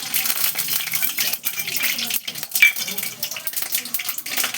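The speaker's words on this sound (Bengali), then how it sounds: "এইবার আমি তেলে কি দিচ্ছি, এই যে কালো সর্ষে দিয়ে দিলাম" Black mustard seeds crackle and pop in hot mustard oil while noodle upma is cooked, with irregular sharp spitting bursts over a soft, continuous sizzle.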